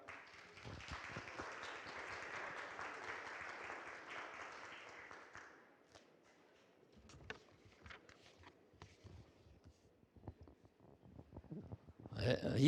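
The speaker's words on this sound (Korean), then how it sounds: "힘찬 박수로 맞아 주시기 바랍니다." Audience applause at the opening ceremony of a democracy and human rights forum in Gwangju, a steady crowd clapping for several seconds before thinning into scattered claps and shuffling.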